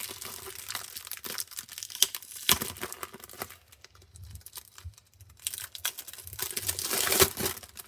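A gift parcel is opened close by, with loud crinkling and crumpling of packaging in irregular bursts, sharp rustles and tearing bits, briefly quieter midway before swelling again.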